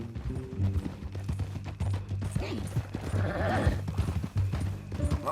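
Horse in Red Dead Redemption 2, with clip-clop hoofbeats at a steady walking rhythm and a whinny partway through, close and moderately loud, with light mechanical rattling alongside.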